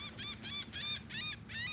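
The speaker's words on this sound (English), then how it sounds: "The little birds are yelling at the pelicans for showing up." Small shorebirds on a beach give six rhythmic, harsh honking calls in quick succession, close and fairly loud, scolding pelicans over a low background rumble.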